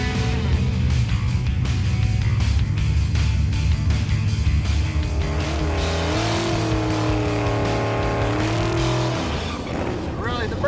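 A Ram 3500 Cummins turbo diesel dually truck makes a drag racing run on street tires, its engine roaring loud and steady with the pitch climbing through gears, close and continuous.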